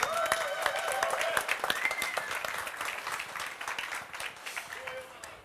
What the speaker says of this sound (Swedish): Applåd igen.